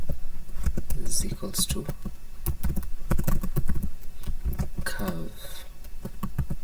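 Typing on a computer keyboard while drawing a Hilbert curve in Blender, with rapid clicky key taps scattered throughout under steady nearby talk.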